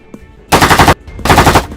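Gunfire at a beach in an animated story, two loud, dense bursts of rapid automatic fire, each about half a second, close and alone.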